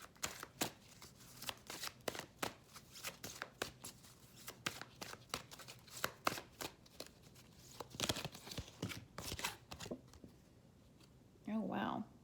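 A deck of cards is shuffled in a rapid, crisp series of riffling flutters and slaps, close and quiet, before a card is drawn, with a voice speaking briefly near the end.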